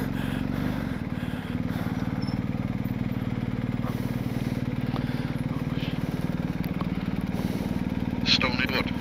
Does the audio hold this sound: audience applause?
no